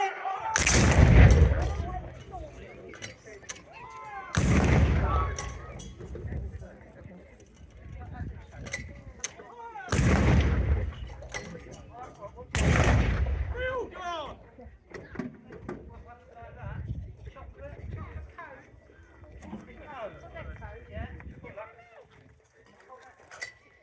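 Historic artillery guns at a D-Day 80th anniversary event at Fort Nelson, Hampshire, fire four heavy booming rounds several seconds apart, each blast echoing and rumbling away outdoors, with people talking faintly between shots.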